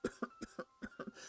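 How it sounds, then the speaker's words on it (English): A person coughs quietly in a rapid run of about seven short, dry bursts, evenly spaced over little more than a second, with no talking. "I'm going to have to cough again."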